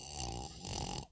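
A woman snoring while napping: one long, harsh, rattling snore, loud and close, that fades out at the end, with no speech.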